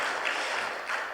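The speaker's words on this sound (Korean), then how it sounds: "우리 따뜻한 격려의 박수 감사의 박수 한번 보내주시기 바랍니다" Congregation in a Korean church service applauding a couple as they stand, a steady wash of many hands clapping throughout, moderately distant and even, with no talk over it.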